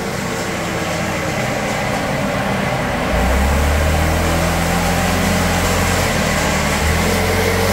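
A stock Yamaha Fazzio 125 scooter engine with a remapped ECU, running steadily and then stepping up to a louder, deeper drone at full throttle partway through, close by with no talk.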